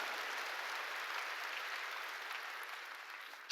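Church congregation clapping together in a steady, dense wash of applause that fills the room evenly from start to finish, with no voices over it.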